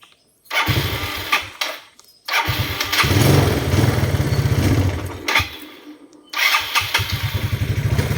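A Yamaha Mio scooter with a newly replaced carburetor cranks and fires up, its small engine sputtering in uneven bursts with brief stops, then settling into a close, pulsing idle.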